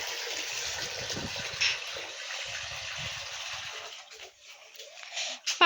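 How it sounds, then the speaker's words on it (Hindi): Water pours and gushes in a steady stream for cattle to drink, rushing continuously before thinning into splashes and trickles near the end. "डंगर पानी पिलाते हुए"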